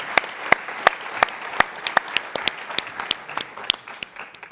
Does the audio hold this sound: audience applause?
yes